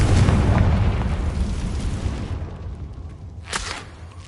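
A magic explosion spell cast in a Harry Potter video game bursts with a loud, booming blast that rumbles and fades. A second, sharper pop lands near the end.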